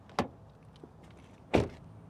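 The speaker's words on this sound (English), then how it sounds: "let's check out how this vehicle sounds when you close the door." Doors of a 2023 Hyundai Palisade Calligraphy SUV shutting, two solid thuds about a second and a half apart, the second louder and fuller, with a faint click between them in a quiet space.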